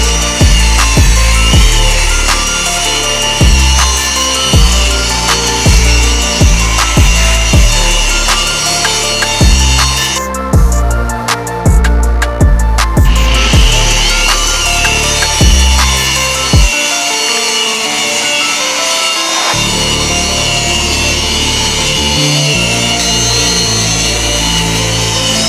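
Power buffer working over freshly sanded paint on a TDI Toyota car, a loud continuous whirring drone with shifting pitch and brief changes in load, close up and without talk.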